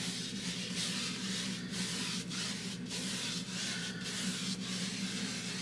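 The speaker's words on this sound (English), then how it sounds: "really spreading this liquid white all the way across the canvas" A brush scrubs liquid white back and forth across a canvas during Bob Ross-style painting, giving a soft, steady rubbing hiss with regular rhythmic strokes, quiet and close, with no talking.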